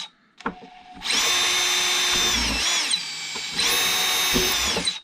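A power drill bores holes in the control surfaces of a Seagull Models Gilmore Red Lion RC airplane, with two sustained high whining bursts, each several seconds long, separated by a brief pause.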